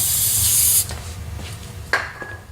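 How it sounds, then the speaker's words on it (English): A loud, hissing burst of aerosol brake cleaner sprayed up close on the brakes of an Infiniti G35 cuts off, followed by faint rubbing and a short squeaky scrape. "So I'm just going to spray this down"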